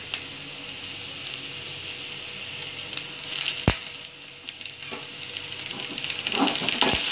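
Onions and curry leaves sizzle steadily in hot oil in a pan while cooking radish sambar, with a constant frying hiss and a few soft stirring clinks, no voices.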